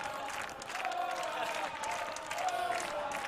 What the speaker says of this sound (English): Yeah, they're getting amped up right now for Cal Berkeley.